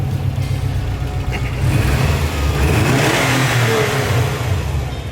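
A Subaru WRX engine runs loudly nearby, its aftermarket exhaust rumbling as it revs up and holds a higher, throatier pitch before easing slightly.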